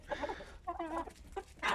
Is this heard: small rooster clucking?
yes